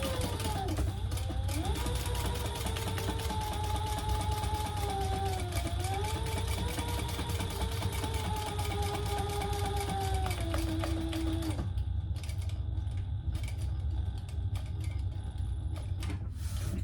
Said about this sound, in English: now we're going to top stitch just under on that lining piece